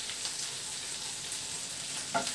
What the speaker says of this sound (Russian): главное обжарить по разным сковородкам